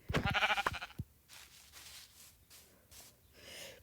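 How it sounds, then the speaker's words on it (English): A blocky Minecraft sheep gives a short bleat up close, followed by a few soft, breathy game sounds spaced across the following seconds. "Now all we need to do is find 1 more sheep."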